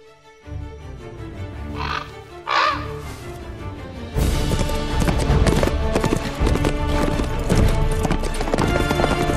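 Horse hooves clip-clop in a scene from the film Maleficent: a few crow caws ring out first, then a dense, steady run of hoofbeats rises suddenly and keeps going.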